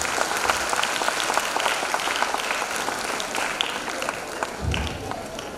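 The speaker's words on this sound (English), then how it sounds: "Please, a huge round of applause" A large audience at a school silver jubilee annual day breaks into a sustained round of applause, steady dense clapping that carries on for several seconds with a low thump near the end.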